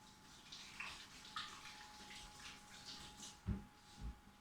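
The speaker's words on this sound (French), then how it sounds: "Vous lavez bien les mains." Cold water runs from a kitchen tap as hands are washed while baking cookies, a soft steady flow with a couple of louder splashes near the end and no speech.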